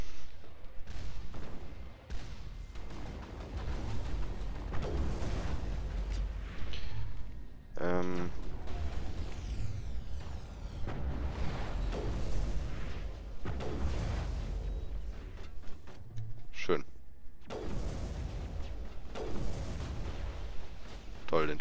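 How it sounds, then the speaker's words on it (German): Bursts of gunfire and booming blasts from Mass Effect 1 crackle through a busy, continuous soundscape, with someone talking in German over much of it. "Den Schuss hat Liara abgefangen"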